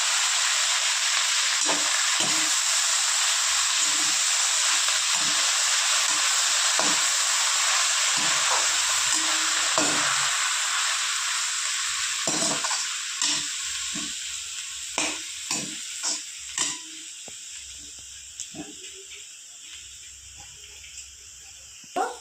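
Spices frying in a pan with kharkon leaves tossed in for a bata dish, a steady close sizzle and hiss broken by scraping stirs that grow sharper and more spaced toward the end, no voices.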